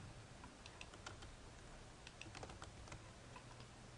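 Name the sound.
typing on a computer keyboard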